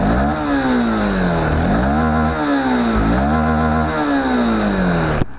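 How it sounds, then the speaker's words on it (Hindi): Honda SP160 motorcycle exhaust as the engine is revved repeatedly, each rise in pitch climbing and dropping back in a steady cycle of about four swells, loud and close with no talking. "मैं आप लोगों को इसकी जो एग्जॉस्ट साउंड है वो भी यहाँ पर सुनाना चाहूँगा।"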